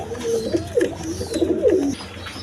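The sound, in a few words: Giriwaz pigeons cooing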